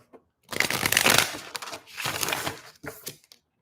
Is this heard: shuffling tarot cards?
yes